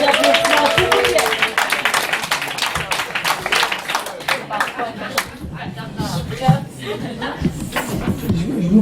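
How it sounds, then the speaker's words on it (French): Audience applause and clapping at a slam poetry night in a Montreal bar, a dense burst of claps that thins out over several seconds, mixed with chuckles and chatter. "une bonne main d'applaudissements, s'il vous plaît."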